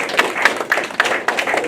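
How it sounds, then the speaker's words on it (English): Staff members at an all-staff meeting clap in scattered, uneven bursts, close and fairly loud, with distinct individual hand claps rather than a full dense ovation. "Give yourselves a round of applause."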